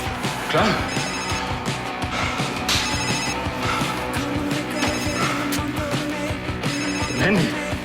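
A mobile phone rings with repeated electronic bell-like bursts in a steady pattern, fairly loud and close, over a busy background of voices and other noise.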